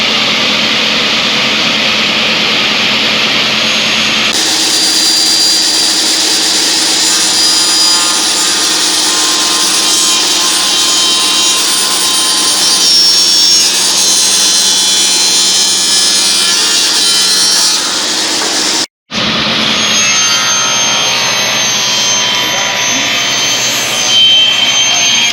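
A power saw making 45-degree cuts in wood for a film set decor, a loud steady whining roar that runs continuously, drops out briefly, then resumes up close.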